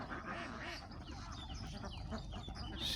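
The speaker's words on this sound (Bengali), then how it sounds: "এখানে খালের পারে মানে নদীর পারে চকের ভূগোলে এই হাঁসগুলো সে লালন পালন করে।" A large flock of ducks at a riverside duck farm, a continuous low mass of quacking and chatter spread across the scene, faint and somewhat distant, with outdoor background noise.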